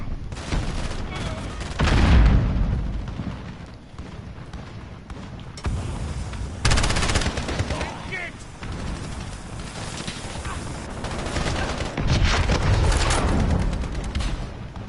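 Rapid gunfire in a Call of Duty: Modern Warfare Ground War match, loud automatic bursts and booming shots going on and off over constant battle noise, with a voice talking over it.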